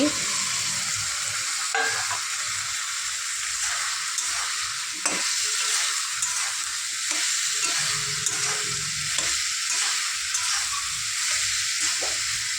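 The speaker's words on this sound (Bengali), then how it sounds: "এবার সয়াবিন আলুটাকে ঢেলে দিচ্ছি" Soybean chunks and potato tip into a pan of frying spice masala, setting off a loud, continuous close-up sizzle with scraping stirs and occasional clatters of the spoon.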